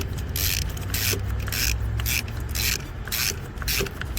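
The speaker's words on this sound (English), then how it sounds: "you're just gonna hand tighten these until it gets nice and snug." A spark plug is threaded by hand into the 5.7L Hemi V8 of a Dodge Durango RT, producing close, repeated short rasping clicks in a fairly steady rhythm over a low background hum.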